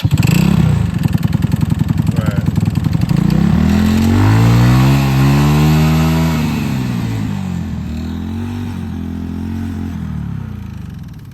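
A 150cc go-kart engine sputters, catches and revs up loudly, its pitch swelling and falling before settling into a steady rough idle, close by and dominating.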